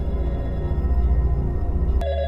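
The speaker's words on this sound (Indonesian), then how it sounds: "Terdengar suara telepon berbunyi." A telephone ringing steadily with a tonal electronic ring, fairly loud and close, cutting off abruptly near the end.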